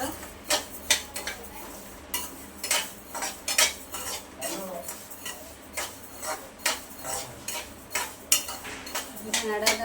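Mukhwas ingredients dry-roasting in a pan, stirred briskly so a spoon clicks and scrapes against the metal in quick, irregular taps, close and clear, with no talking.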